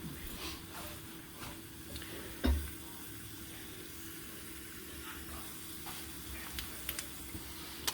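Tadka with methi leaves sizzling in hot oil for rasam, a soft steady crackling fizz with faint scattered pops and one brief clink partway through, quiet and close.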